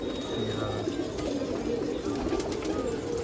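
Racing pigeons at a pigeon festival in Nashik coo in a low, steady murmur, a continuous soft rumble of several birds close by with no pauses.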